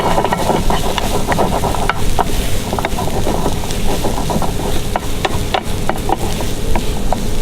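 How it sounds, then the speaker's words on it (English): Chopped lemongrass and ginger fry in a pan while being stirred, making a loud, continuous close-up sizzle with frequent scraping and clicking from the utensil. "Just going to give them a little stir around there,"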